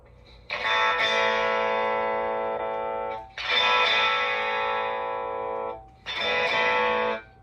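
Three sustained, bright and thin-sounding electric guitar chords ring out with effects, each fading before the next.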